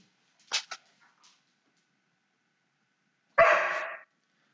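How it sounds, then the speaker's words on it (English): A dog barks a few times in quick succession, then after a quiet gap lets out one longer, louder bark-like yelp, fairly close, with no talking over it. "That's my dog Tully."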